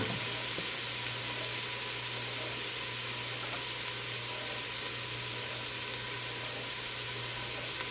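Onions sweating gently in a pan over low heat give a soft, steady hiss, faint and continuous with no distinct stirs or voices.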